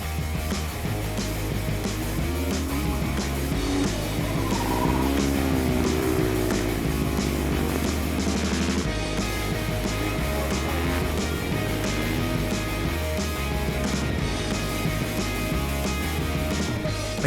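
Supermoto motorcycles race around a track, their engines a loud, continuous, layered drone with rising and falling pitch as the bikes accelerate through corners and down the straight.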